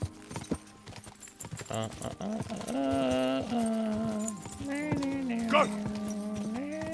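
Horse hooves clip-clop in a video game amid scattered game effects and music-like tones, with a person shouting and speaking over the sounds.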